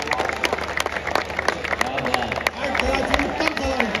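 A crowd at a Dahi Handi celebration in Thane claps amid loud, busy outdoor babble, with sharp individual claps and shouting voices layered over a constant festival din.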